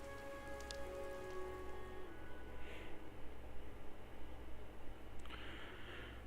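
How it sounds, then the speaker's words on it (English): Steady rain falls in Fire Emblem: Three Houses, a continuous hiss of drops on a surface with a low rumble beneath and a few soft tonal chimes near the start, holding an even level throughout. "This rain threatens a coming storm."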